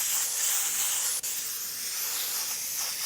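An airbrush sprays fluorescent paint onto a T-shirt, a continuous close, airy hiss that cuts out for a split second before resuming steadily.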